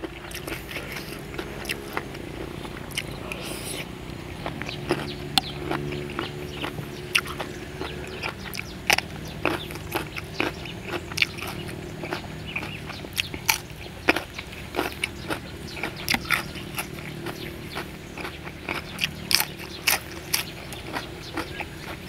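Crispy dried squid tossed with crunchy vegetables being bitten and chewed up close, steady crisp crunches and snaps repeating throughout with no talking.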